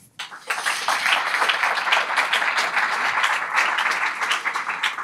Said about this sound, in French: Merci Arthur, on peut l'applaudir.